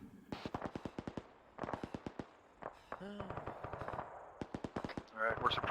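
Rapid bursts of automatic gunfire laying down suppressing fire in a military shooter set in Syria, several separate rattling strings of shots with short pauses between them, fairly close, with a voice speaking briefly in a gap.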